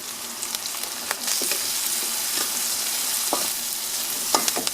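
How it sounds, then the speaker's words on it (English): Cooked ingredients sizzle steadily in a hot pan while half a teaspoon of turmeric is stirred in for Indian-style cabbage, with soft scraping and clinking stir strokes over the continuous fry, close and moderately loud, no talking. "I'm going to add some turmeric, about half a teaspoon, and stir"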